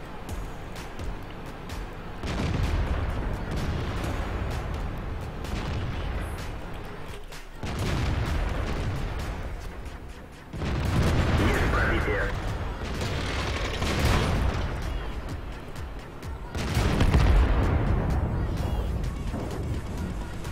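Tank cannons fire in the World of Tanks video game: repeated heavy booms and crashing blasts strike every few seconds over a constant rumbling battle din, loud and close.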